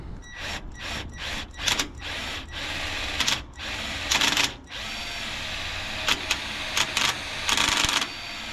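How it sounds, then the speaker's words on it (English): Impact driver sinking a self-tapping screw into the thick metal of a large trailer during an emergency repair, with repeated close, loud bursts of rattling hammering that start and stop in a short irregular rhythm. "This is a impact driver."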